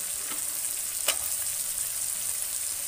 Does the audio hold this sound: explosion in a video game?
no